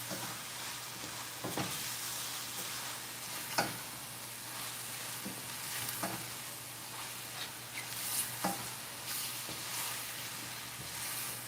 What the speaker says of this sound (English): Put a little thyme in here. And just saute it.